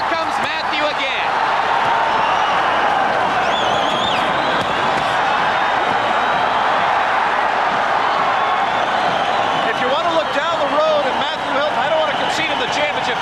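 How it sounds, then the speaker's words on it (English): Arena crowd at the Matthew Hilton vs. Buster Drayton IBF junior middleweight championship boxing bout, roaring and cheering loudly and without a break, while a commentator talks over the din. "the crowd really is into it now"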